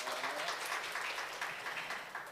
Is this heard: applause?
yes